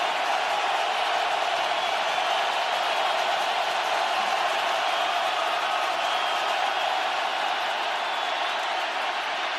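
Crowd noise in the stands at an NFL game between the Cleveland Browns and Kansas City Chiefs, a broad, constant roar of a large stadium audience with no clear peaks, heard from a distance.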